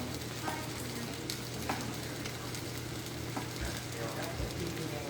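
Chopped smoked sausage cooking down in a Louisiana-style roux gravy, a soft, steady sizzle and bubbling in the pot with occasional faint stirring scrapes, low in level and without talk.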